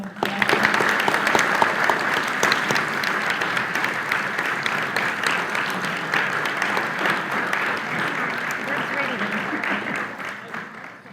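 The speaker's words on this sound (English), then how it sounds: "can we give one more round of applause to all?" Audience applause fills a Rotary Club meeting room, a sustained, even round of many hands clapping that carries on for several seconds before tapering off at the end.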